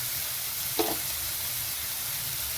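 Spices sizzle in a pan while being sautéed for chicken balls, a steady close hiss broken by one brief clink or scrape near the start, with no voices.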